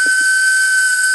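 A guard's whistle is blown on a railway platform, giving one loud, shrill, sustained tone that holds steady, with a couple of soft low thumps around it.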